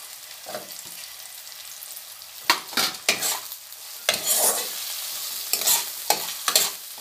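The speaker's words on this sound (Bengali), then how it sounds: "টমেটোটা নরম হয়ে যাওয়া পর্যন্ত এটাকে আমরা ভাজা ভাজা করে নেব" Chopped tomatoes with green chili sizzle in a hot pan while a utensil scrapes and stirs in repeated bursts, close and clear, with no talking.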